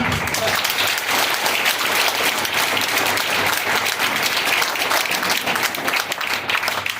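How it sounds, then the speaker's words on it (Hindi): Loud, sustained applause from a large audience at a motivational talk, a dense wash of clapping that holds steady for several seconds with no break. "जोरदार वाली तालियां।"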